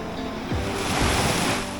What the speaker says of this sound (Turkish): Bir de biraz da dalgalar var.